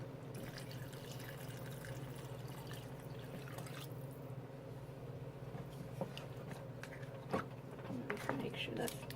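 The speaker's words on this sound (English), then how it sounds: "And the last thing we want to add is some water." Water is poured into a cooking pot while a Congolese family dinner is made at home, a faint, steady trickle with small drips under low background noise.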